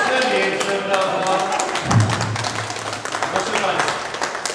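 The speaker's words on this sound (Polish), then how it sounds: "Wielkie brawa dla Ani, drugiej i dla trzeciej Ani jeszcze większe brawa" A party crowd at a name-day and birthday celebration with a band claps for the celebrants, the applause running under talk and rising into brisk, sharp clapping toward the end.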